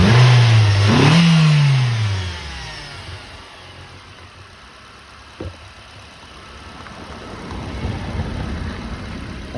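A 2014 Nissan Sentra with a check engine light on cranks and fires up with a quick rev, then settles into a steady idle with a brief click partway through.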